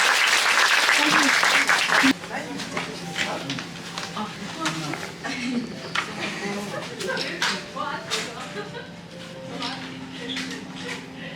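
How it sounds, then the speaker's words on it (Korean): A crowd at a Korean author talk gives a burst of loud applause that stops abruptly after about two seconds, followed by someone speaking over a quiet hall with scattered claps. "마지막으로 아주 큰 박수 부탁드립니다"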